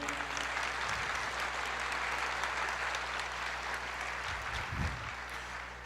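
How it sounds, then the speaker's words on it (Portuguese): A church congregation applauds during a sermon, a steady, even wash of clapping over a low hum, holding throughout the short stretch. "Você pode aplaudir o Senhor?"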